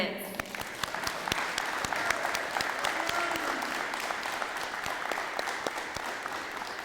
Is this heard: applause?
yes